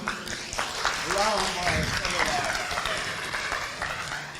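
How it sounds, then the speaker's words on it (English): An audience at an inter-faith commemoration claps for a donor during fundraising, a dense spread of applause with a voice speaking over it partway through. "At least we can clap for him."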